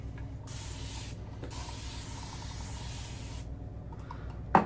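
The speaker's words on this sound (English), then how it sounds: "I need more water in my bougie spray mist stuff" Steady hissing of a spray bottle misting water, continuous for several seconds, close by, with a couple of brief pauses and a small click at the end.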